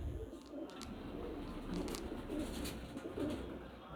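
Pigeons cooing softly amid a busy loft with other birds, a steady low murmur of coos over background rustle, with brief higher chirps.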